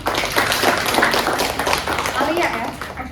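A classroom of students claps for a classmate after a presentation on tooth functions, a short burst of scattered applause under a teacher's voice.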